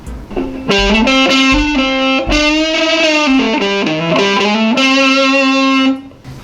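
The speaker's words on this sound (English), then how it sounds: "when you're looking at distortion, it's a growl, it's rough" A loud, gritty distorted electric guitar plays sustained notes and short phrases, growling with rough, saturated overtones.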